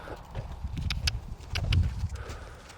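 A four-year-old gelding lopes along at an easy rhythm, its hoofbeats coming as soft, repeated thuds at moderate distance, steady throughout with a faint outdoor background.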